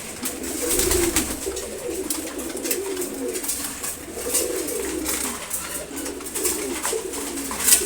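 Racer pigeons in a loft coo repeatedly, low throaty rolling calls in rising and falling bursts, close and fairly loud, with faint clicks and rustles between.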